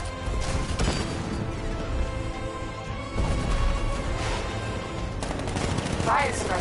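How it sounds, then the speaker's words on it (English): Gunfire in a Batman video game as an unmanned tank opens up with its 60mm cannon: rapid, crashing bursts of shots repeat loudly through the scene, with a clear surge midway and sharp impacts near the end. "60mm cannon operational"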